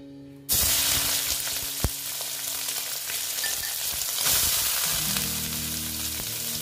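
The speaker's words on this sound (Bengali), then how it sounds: "এই তেলের মধ্যেই আমি সয়াবিনটা দিয়ে দিচ্ছি।" Soybean chunks drop into hot oil and set off a sudden, loud, steady sizzle that fills the rest of the moment, with one sharp clank of a utensil against the pan partway through.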